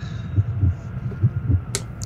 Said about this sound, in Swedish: Ni bara höra hjärtslagen rätt starkt i huvudet.